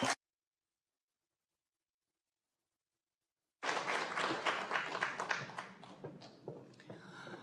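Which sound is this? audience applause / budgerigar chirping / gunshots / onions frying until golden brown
audience applause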